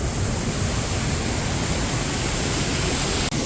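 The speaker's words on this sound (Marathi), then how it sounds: "पाण्याचा फ्लो आहे ना प्रचंड आहे" A powerful waterfall pours beneath a rock ledge in a hidden spot in Konkan, sending out a steady, loud, unbroken roar of heavy rushing water that fills the whole clip with no voices.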